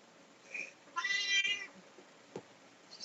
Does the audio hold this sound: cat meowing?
yes